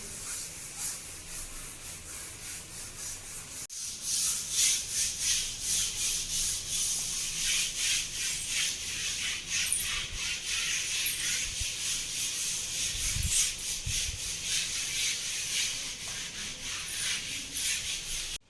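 Rhythmic back-and-forth scrubbing of a scrubber brush against a hard bathroom floor, repeated rasping strokes close by, steady for a long stretch with no talk.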